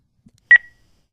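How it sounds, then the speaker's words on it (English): A single short electronic voicemail beep sounds sharply, preceded by a faint click, then silence. "leave the message after the beep."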